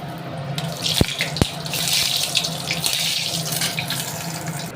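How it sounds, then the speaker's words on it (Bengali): Dried red chilies frying in hot mustard oil in a kadai, a steady loud broadband sizzle with two sharp clicks near the start, no talking. "তো এই যে তেলটা গরম হয়ে গেছে, এবার শুকনো লঙ্কাটা ভেজে নেব।"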